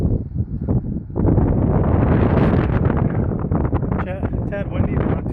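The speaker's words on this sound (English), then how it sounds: "Tad windy, but not too cold." Strong wind buffets the microphone at Raglan Castle, a loud, continuous roar that rises after the first second and keeps blustering.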